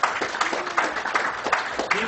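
Audience applause at a summer astronomy conference, a steady wash of many hands clapping at moderate volume for about two seconds, with a few louder individual claps standing out.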